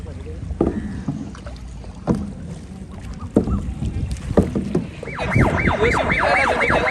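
A boat moves on the water off Goa, with splashing and wind buffeting the microphone. Voices are heard, and a rising and falling whistle-like tone joins near the end.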